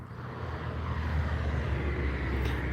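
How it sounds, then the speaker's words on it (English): Traffic on a nearby road beside a residential driveway, with a car or truck passing in a steady, broad roar that swells slightly and holds at close range. "I just hate how loud it is when these cars and trucks go by."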